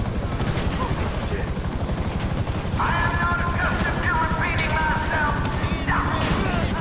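A helicopter in the GTA 5 video game, a steady chopping rotor drone with whining tones and clattering game effects over it, loud and continuous.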